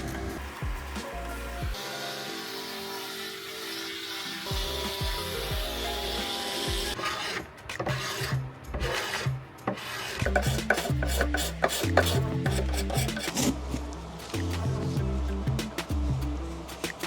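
An old paintbrush scrubs the wooden legs of a mid-century Lane Acclaim telephone table, producing rough rhythmic rasping strokes, close and fairly loud, with uneven bursts and short pauses between them.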